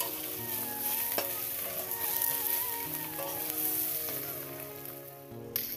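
Pieces of fish frying in a pan in a village kitchen, a continuous close sizzle and crackle with occasional stirring scrapes and a faint tonal whine behind.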